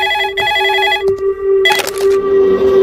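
A telephone rings in repeated electronic bursts, loud and close, with short gaps between them and a brief clatter partway through.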